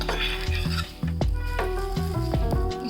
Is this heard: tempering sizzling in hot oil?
yes